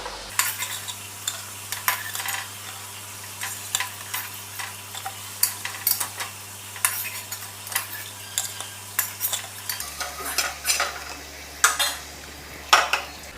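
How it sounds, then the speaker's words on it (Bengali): Chana dal dhoka pieces fry in oil over medium-high flame, giving a continuous sizzle broken by repeated clinks and scrapes of a metal utensil against the pan, with a low steady hum from the stove in the background. "এবার মিডিয়াম টু হাই ফ্লেমে ভাজবো এগুলো"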